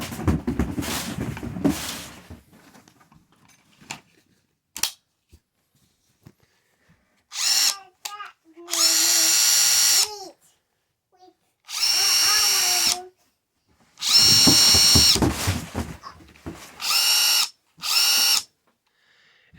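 Ridgid subcompact impact driver and drill driver run in short separate bursts, with soft-start whirs and ratcheting motor buzz, loud and close with silent gaps between triggers, after some handling noise at the start.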